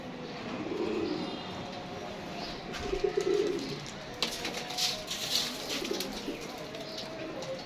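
Pigeons coo softly in low, repeated murmurs, with brief fluttery bursts and scattered chirps midway as birds take off; quiet and fairly close.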